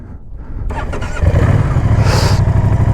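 A Moto Guzzi V100 Mandello motorcycle engine cranks briefly and catches, settling into a loud, close, throbbing idle with a rough pulsing rumble.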